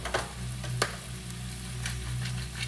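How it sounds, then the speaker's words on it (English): Vegetables seasoned with salt and pepper sauté in a pan, giving a steady soft sizzle with a few sharp ticks and clicks of stirring against it. "Vamos a añadir la sal, pimienta, los van a saltear hasta que estén translúcidos"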